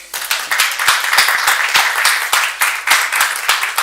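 Seminar participants applaud at a final group session, a small room of hands clapping in a brisk, uneven patter that stays close and steady throughout.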